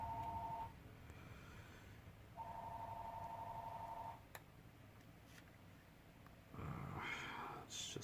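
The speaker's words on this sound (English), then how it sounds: "It's just the phone." Telephone ringing, two long electronic warbling rings separated by a pause, faint and somewhat distant, with quiet background noise and a brief voice near the end.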